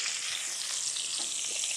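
Chicken thighs fry in a very hot pan, giving a loud, steady, close-up sizzle that carries on without a break and with no talking.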